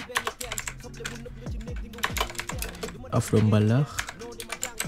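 Keys clatter in quick irregular bursts as a search is typed on a computer keyboard, with a voice speaking over the typing.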